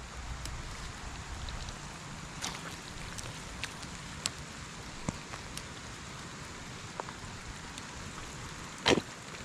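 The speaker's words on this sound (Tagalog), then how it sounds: "ang lakas ng ulan" Heavy rain falls steadily on a vegetable garden, a soft continuous hiss with scattered sharper drips and taps, fairly faint throughout.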